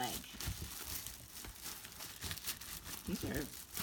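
Bubble wrap being pulled off sturdy study cards crinkles and rustles in close, busy bursts, with a voice speaking over part of it.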